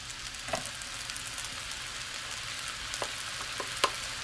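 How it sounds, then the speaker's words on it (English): Chicken fried rice with sesame oil sizzles as it is stirred in a pan, an even frying hiss with a few sharp clicks and scrapes of the utensil. "we're just going to mix it around for just a couple minutes"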